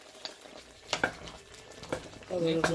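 Cooked yam crushed in a pot while making yam porridge, a few soft scraping and knocking strokes over a faint sizzle, with a brief tonal clink near the end, close and quiet.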